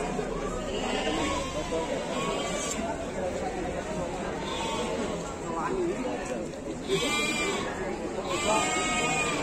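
Several sheep bleat repeatedly at a livestock market, overlapping calls near and farther off, over a busy background of voices and farmyard noise.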